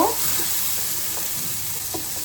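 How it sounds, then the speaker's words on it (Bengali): Water poured into sizzling spice paste for tel koi fish curry: a burst of hissing at the start, then a steady loud sizzle with soft stirring scrapes, no talking. "এবার জল দিয়ে নিচ্ছি"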